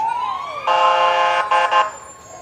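A Gold Coast Ambulance siren in a 4th of July parade in Waupaca, Wisconsin: a rising electronic wail jumps into a loud, sustained tone, cuts off briefly, then gives two short blasts before dropping away.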